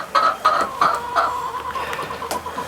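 Backyard hens cluck in a short run of repeated, fairly close calls, about four bursts and then a later one, with no talking.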